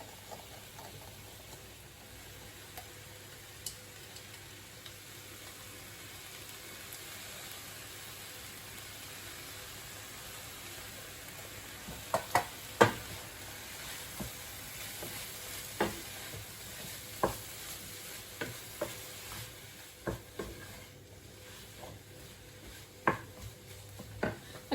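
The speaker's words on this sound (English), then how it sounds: "stirring that for another 5-10 minutes until everything's softened down" Fajita filling of softened vegetables frying in a pan, a steady low sizzle with scattered scraping stir clicks, growing busier toward the end, heard alone at moderate distance.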